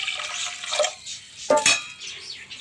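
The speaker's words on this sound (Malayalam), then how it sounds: "കുക്കർ അടുപ്പത്ത് വെച്ച് പരിപ്പിട്ടുണ്ട് അപ്പം അതിൽ പാകത്തിനുള്ള വെള്ളം ഒഴിക്കുന്നു" Water pours into a pressure cooker of lentils on the stove, splashing and gurgling in two short close bursts with brief pauses between.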